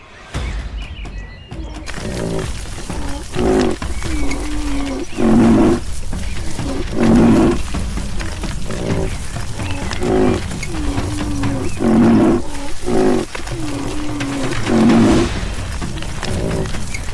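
A retreating rhinoceros bellows again and again, loud, close, deep roaring calls repeating about every two seconds over constant rumbling background noise.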